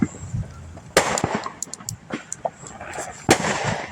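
Fireworks go off outdoors in a scattered series of sharp cracks and pops, two louder bangs standing out among smaller crackles, over a faint background.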